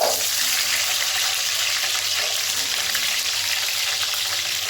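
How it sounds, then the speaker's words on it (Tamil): Onion and garlic frying in hot oil with a loud, dense, continuous sizzle, close and steady throughout. "எண்ணெய் காயட்டும் வந்துட்டு இந்த வெங்காயமும் பூண்டும் போட்டுடலாம்"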